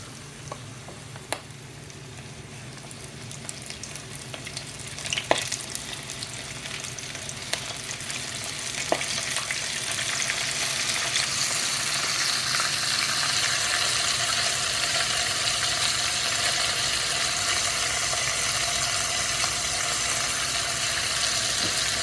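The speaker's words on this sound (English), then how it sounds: "now we're ready to fry the shrimp" Shrimp drop into hot oil and set off a building sizzle that turns into a steady, bright, crackling fry. A few scattered clicks and utensil taps come early on, with no talk.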